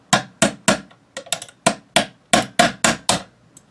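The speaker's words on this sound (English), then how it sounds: "Get the punch and the hammer and start tapping." A hammer taps a metal punch to drive a pin out of an AK-47 underfolder stock part, with about a dozen sharp, close metallic strikes in an uneven rhythm and short pauses between them.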